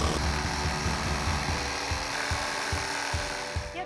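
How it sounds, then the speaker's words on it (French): A Parkside pendulum jigsaw cutting through wooden shelf boards close by, a continuous harsh buzzing whine with a fast, rhythmic chopping pulse underneath. "Je scie les étagères à l'aide d'une scie sauteuse pendulaire."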